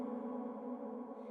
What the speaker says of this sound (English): If I solo up the reverb and bypass all of that